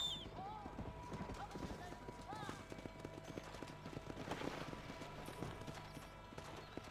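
A horse in the video game Red Dead Redemption clip-clops with a quick, rhythmic run of hoofbeats, faint and distant. Brief voices sound over the hooves.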